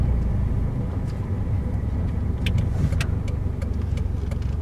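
A Nissan Silvia S15 drives off, heard from inside as a steady low engine and road rumble, loud and constant, with faint light clicks over it.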